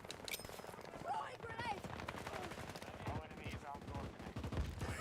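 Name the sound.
gunshots in a shooter video game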